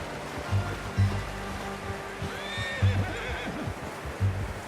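A horse in Red Dead Redemption 2 whinnies in a rising, wavering call, with soft hoof clip-clops and low snorts around it, set against a gentle ambient wash of water in the background.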